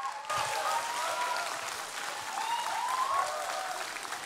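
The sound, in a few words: congregation applauding and cheering in a church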